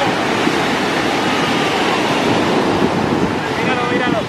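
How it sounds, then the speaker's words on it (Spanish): High ocean waves breaking at a crowded beach, a loud continuous roar of surf mixed with gusty wind buffeting the microphone, steady and close throughout with no clear talk. "Mira, estas olas están bien altas. Hay mucha gente hoy."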